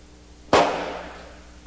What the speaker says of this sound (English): Upon command, number 4 would give a final pull on the lanyard. The friction primer acted like a giant kitchen match and set off the propelling